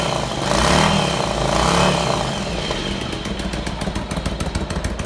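A motorcycle engine idles steadily without choke, a close, continuous low rumble with an even ticking rhythm and a slight swell in loudness early on.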